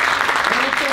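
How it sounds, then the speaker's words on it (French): A theatre audience applauds a youth stage performance, a loud, brief burst of clapping with voices mixed in. "on peut l'applaudir bien"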